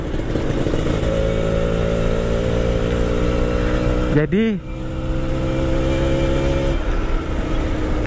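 A motorcycle engine runs at a steady, droning idle, then gets one quick throttle blip that rises and falls before settling back to idle. Someone talks over it.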